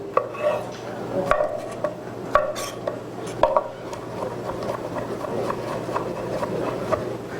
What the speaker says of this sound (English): then we're going to slice up some cucumbers.